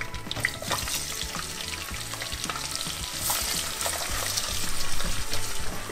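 Onions frying in a pan for mutton biryani give a loud, steady sizzle with stirring scrapes throughout, growing slightly louder toward the end, with no talking.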